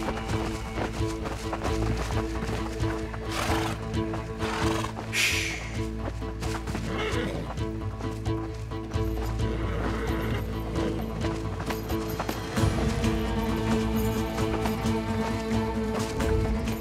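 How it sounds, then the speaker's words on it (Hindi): A horse neighs and its hooves clip-clop over a dense, loud bed of music and effects, the hoofbeats running steadily throughout. "वो रहा सुल्तान का घोड़ा।"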